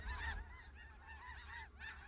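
Snow geese honk in a steady series of nasal calls, several overlapping, with a low rumble running beneath them throughout.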